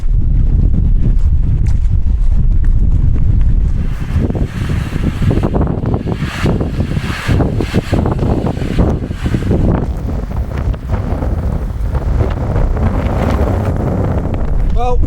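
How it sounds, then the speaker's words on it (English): Strong, gusty wind buffets the microphone at an exposed campsite, steady 25–30 mph blasts with intermittent harder gusts, a loud continuous roar that swells and rushes without pause. "Now, the actual wind speed's around 25-30. It's got these intermittent gusts,"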